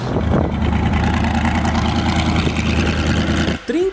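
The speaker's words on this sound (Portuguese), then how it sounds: "agora juntava multidões para ouvirem o seu motor V8 rugir" A Chaparral 2J race car's V8 engine rumbles steadily and loudly up close, a dense low drone that holds for several seconds before briefly dropping off at the end.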